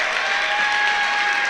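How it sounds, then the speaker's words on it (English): A high school basketball crowd at a Lexington Christian home game against Dunbar in the district tournament gives a standing ovation, a dense, loud, even wash of applause and cheering throughout. "gets a standing ovation from the Lexington Christian crowd"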